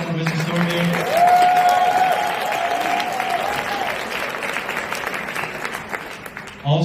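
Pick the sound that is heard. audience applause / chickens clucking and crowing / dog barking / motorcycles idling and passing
audience applause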